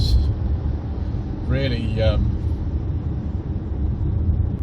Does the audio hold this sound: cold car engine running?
yes